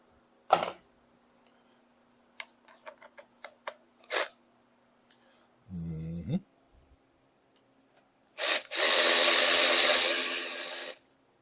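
Parts being removed from the rear side of a Polaris Sportsman 570 ATV hub while the brake caliper comes off: several sharp metallic clicks and taps, a short low clunk, then a long loud burst of hissing or scraping near the end, with no talk.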